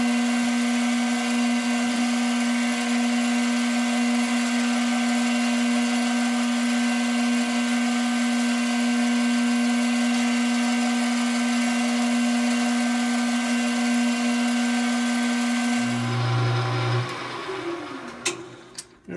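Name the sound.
drilling the airway hole in a wooden tobacco pipe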